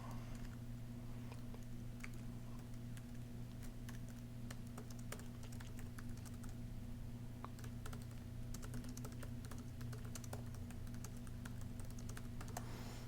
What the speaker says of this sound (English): I've just typed out just real basic email